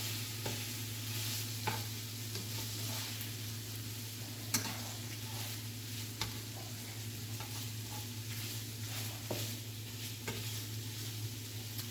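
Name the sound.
Italian sausage browning and sizzling in a pan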